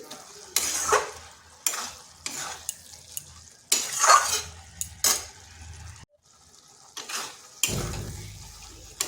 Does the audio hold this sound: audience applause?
no